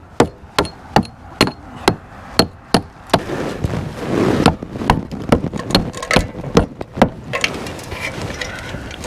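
A hammer chipping old mortar out of cracked, wide brick joints: sharp, evenly spaced blows at first, then a scraping stretch and a looser run of strikes, close and loud.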